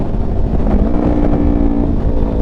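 A tuned car engine with aftermarket V2 stacks and a 2WDW tune pulls hard in sixth gear, a loud, steady, throaty drone with rising harmonics running continuously and up close, no talking.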